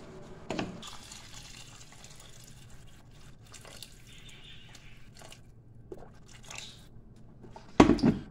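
Water poured into a pot of salted rice, splashing and gurgling in bursts with a louder splash near the start and again at the end, close by with no talking.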